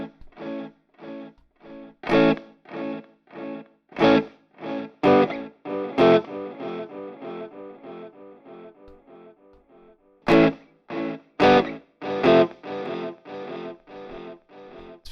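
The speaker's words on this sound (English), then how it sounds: "a little bit of a high-end roll-off with maybe a little bit of extra compression and distortion, like a slight amount of saturation added" An instrument plays through a TE TapeEcho MkII tape-echo effect set for tape-age character, giving subtle saturation and distortion. Short rhythmic plucked notes and chords come in close, clear bursts with brief decays and quiet gaps.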